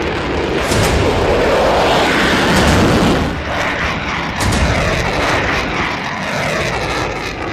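A fighter jet such as an F-16 roars loudly and steadily overhead, a broad sustained engine rumble that swells and eases slightly, with no voices.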